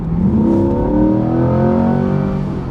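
A large-engined convertible car revs at around 2500 rpm, giving a loud, close, continuous engine drone whose pitch climbs smoothly and then holds, with no talking over it.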